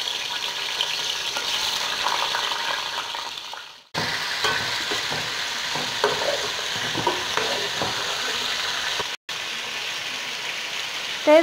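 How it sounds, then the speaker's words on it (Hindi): Chicken fries in hot oil in a large pot over high heat, a loud, continuous close sizzle with stirring and bubbling throughout and a couple of brief breaks. "अब सबसे पहले चिकन तल के निकाल लेंगे।"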